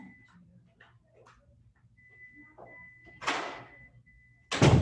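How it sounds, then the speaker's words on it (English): A door shut fast indoors, a sharp loud slam at the very end after a quick rising swish, with quieter rustling and a faint dog whimper earlier. "I'm going to close the door really fast"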